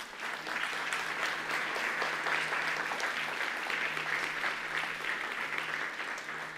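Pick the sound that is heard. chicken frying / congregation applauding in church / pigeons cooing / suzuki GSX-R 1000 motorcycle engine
congregation applauding in church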